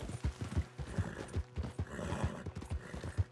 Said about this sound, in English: This horse is so fast that the other one has a hard time keeping up